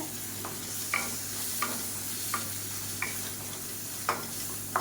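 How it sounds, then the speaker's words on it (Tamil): Tomato sautéing in oil with curry masala powder and turmeric gives a steady close sizzle, with a spoon scraping the pan in regular strokes about every second. "ஒரு டீஸ்பூன் போல் கறி மசாலா தூள் கொஞ்சமாக மஞ்சத்தூள் சேர்த்து வதக்கி விட்டுக்கலாம்"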